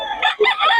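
Rooster crowing from Boss Perry's farm chickens, one loud, near crow with a second rising phrase after a short break, with no talk over it.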